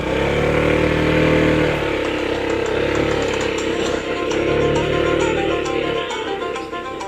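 Honda ADV 160 scooter engine droning and revving on a ride to Basag Falls, a steady loud buzzing hum with rising and falling throttle swells, close and continuous throughout.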